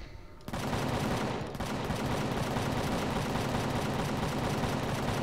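A cannon weapon in the video game Empyrion fires in a dense, loud, sustained barrage of rapid shots with only a brief lull near the start.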